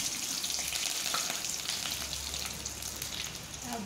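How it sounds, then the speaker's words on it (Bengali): Curry leaves fry in hot oil in a pan for a Bengali chira bhaja snack, giving a steady crackling sizzle with a few light stirring clinks. The sound is close and continuous, and no one speaks. "এবার আমি কারি পাতাগুলো ভেজে নেব।"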